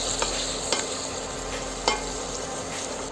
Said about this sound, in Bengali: এখন এই মশলাটাকে আমি 5 মিনিট কষায় নেব।